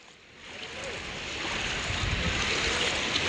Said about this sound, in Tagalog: So mabilis ang pag-agos ng tubig.